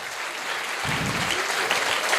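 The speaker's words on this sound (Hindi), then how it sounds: "इन बच्चों के लिए एक बार आशीर्वाद की तालियां बजाइए।" An audience breaks into applause, a dense burst of clapping at moderate distance that swells and holds through the short stretch.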